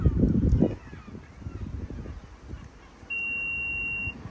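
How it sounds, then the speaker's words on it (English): A single steady electronic beep, about one second long, sounds from the tailgate of a Renault Scenic E-Tech Iconic to confirm a newly set opening height, following a few seconds of quiet handling noise. "Now that beep is to say that this is the new opening position of this tailgate"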